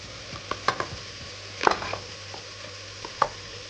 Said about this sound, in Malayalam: ഈ സമയത്ത് നമുക്ക് മാരിനേറ്റ് ചെയ്ത് വെച്ചിരിക്കുന്ന ബീഫ് ഇതിലേക്ക് ചേർത്ത് കൊടുക്കാം